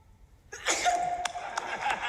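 Someone lets out a single sharp sneeze, close and fairly loud, followed by a lingering breathy tail with no talking.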